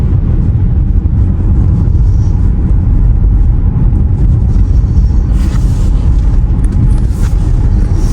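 A 2023 BMW X3 all-wheel-drive luxury SUV driving on the road, heard as a steady, loud low rumble of road and engine noise with wind, continuous and unbroken throughout, with no talk.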